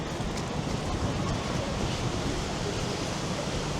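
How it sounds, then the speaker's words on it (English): Strong wind blows outdoors past a residential apartment building, stirring leaves, a steady, close, broadband roar of gusting air buffeting the microphone with no talk. "this wind's very bad and going in my eyes and everywhere with these leaves."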